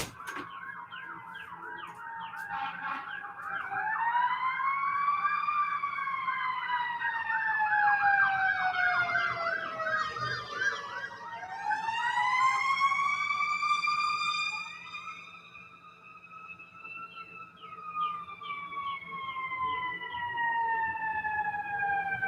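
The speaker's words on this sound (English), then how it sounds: "Because I hear sirens." Emergency vehicle sirens wail outside, several overlapping rising and falling tones sweeping continuously and fairly loud, heard from a distance over a steady low hum with no talk.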